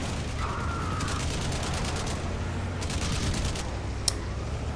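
Rapid bursts of automatic gunfire from a vehicle-mounted weapon in the video game Crysis, repeating in clusters over a steady engine rumble, fairly loud and continuous.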